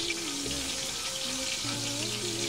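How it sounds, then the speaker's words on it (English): Hot oil crackles and sizzles continuously and fairly loud around frying cheese sambousek pastries, a dense bubbling hiss with faint background voices underneath. "slip a few sambousek and fry until golden about 2 to 3 minutes"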